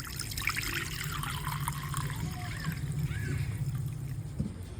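Water trickles and pours steadily as it is drained off washed ration rice in a village kitchen, a soft continuous splashing and dribbling heard close by.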